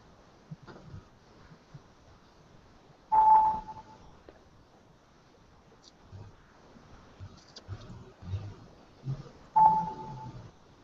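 A phone message notification sounds twice as short, clear tones several seconds apart, with quiet room noise and soft movement between them.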